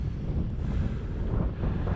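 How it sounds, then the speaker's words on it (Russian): Strong wind buffets the microphone with a low, rumbling roar while fishing at Lake Yavan, steady and close, with faint water sounds in the background. "И ветер тут гуляет."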